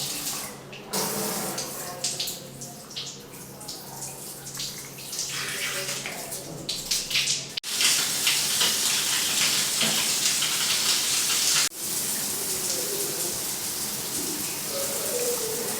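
A plastic rain shower head in a bathroom being remodelled in Chennai sprays water steadily. The hiss rises into a loud, continuous rush partway through, and faint sounds of activity are heard before it.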